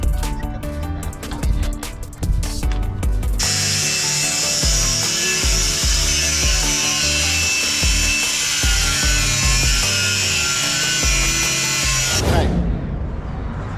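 A power saw cuts a part for a 1955 Chevy truck, starting with choppy bursts, then settling into a loud, continuous, steady shriek up close for several seconds before it abruptly stops and winds down.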